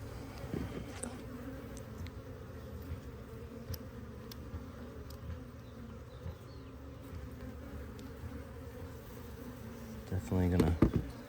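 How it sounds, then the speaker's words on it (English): Honey bees hum in a steady, dense drone throughout a hive inspection, with a brief louder burst near the end as something is handled close by. "Definitely a lot of bees on that next frame."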